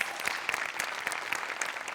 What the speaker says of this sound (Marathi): श्याम्यासाठी एकदा टाळ्या वाजल्या पाहिजे.